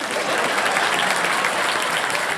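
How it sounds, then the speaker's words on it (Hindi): Loud, unbroken applause fills a television quiz show studio during Kaun Banega Crorepati, many hands clapping together in a dense, even roar with no voices over it. "ताली बजते रहे उनके लिए।"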